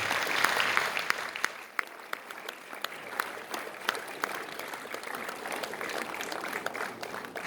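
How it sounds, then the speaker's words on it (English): A crowd applauds dense and steady at a Rotary Club awards ceremony as past President Asoka Piris is called on stage, the clapping sustained and fairly close throughout. "a round of applause for Mr. Piris"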